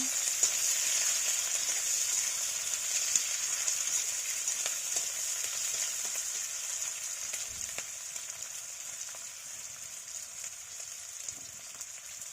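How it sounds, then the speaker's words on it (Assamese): Steady, close sizzling and crackling of onions frying in a hot pan, with faint stirring scrapes and no voices. "পিঁয়াজখিনি দি পেলাই অলপ ভাজি ল'ব।"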